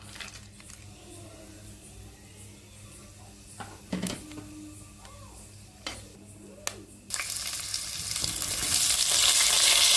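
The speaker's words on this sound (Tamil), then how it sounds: "எண்ணெய் காயிட்டு பிரிஞ்சலை இதெல்லாம் போட்டு தாளிச்சிக்கலாம்." Bay leaves and spices drop into hot ghee and oil. A few scattered clinks and taps give way to a sudden loud sizzle that swells and stays strong to the end, close and with no voices.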